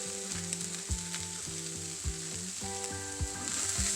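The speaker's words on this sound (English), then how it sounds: "Stir that up." Cooked rice and broccoli stirred in a pan, giving a steady sizzle with repeated scraping pulses at a close, moderate level, no voices.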